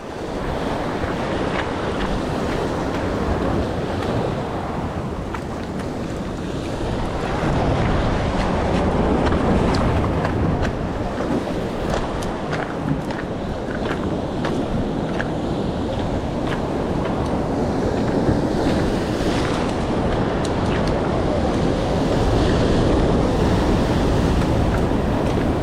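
Ocean waves breaking at a jetty in Corpus Christi, Texas, with strong wind buffeting the microphone, a loud continuous roar of surf and gusts with no voices.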